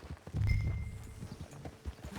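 Horse hooves clip-clop at a relaxed walking pace, close and fairly quiet, with a brief low rumble near the start, from the video game Red Dead Redemption 2.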